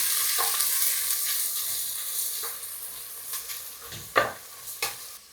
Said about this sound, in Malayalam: അതിലേക്ക് നമുക്ക് അരിഞ്ഞു വെച്ച ഒരു 3 സബോള ഒന്ന് നന്നായിട്ട് വഴറ്റാം.